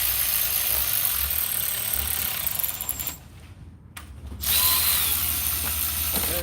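A power tool runs intake bolts down on a Ford Transit during a spark plug job, a steady whirring drive that cuts out briefly for about a second midway, then resumes loudly up close with no talking.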